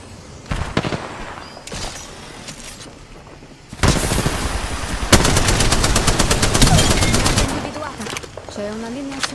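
Gunfire in the video game Apex Legends, scattered shots followed by loud sustained automatic bursts, rapid and close, with game sounds and a voice mixed in.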